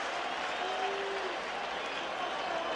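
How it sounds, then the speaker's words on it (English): Fans behind the Chicago dugout at a 1989 NLCS baseball game give a steady round of applause, a broad crowd wash of clapping that holds evenly throughout with a faint tone briefly rising over it. "An appreciative round of applause, though, from the fans behind the Chicago dugout."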